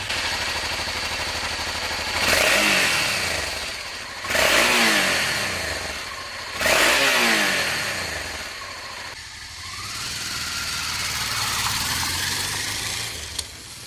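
A Honda XRV650 Africa Twin's V-twin engine idles unevenly, then revs sharply three times in quick blips that fall back to a lumpy idle, heard close with no talk.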